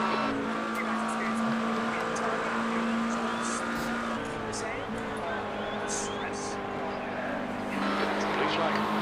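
A McLaren race car engine in a 6-hour Spa endurance racing video game sustains a steady droning whine with shifting pitch throughout, moderately loud, with faint higher whirring above it.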